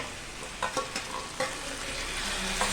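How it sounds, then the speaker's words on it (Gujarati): Onion and tomato mixture frying in a pan for a Kathiawadi dudhi kofta curry, with a steady sizzle and several soft scrapes and clacks of a spoon stirring it, close up and with no talking. "આ મિશ્રણને હલાવી લઈશું"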